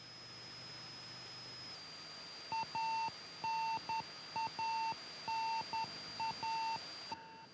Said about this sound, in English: the sound you hear is a radio beacon signal that is being received